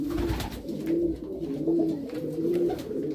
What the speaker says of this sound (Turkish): Erkek ister istemez ona kur yapıyor. Ötüyor.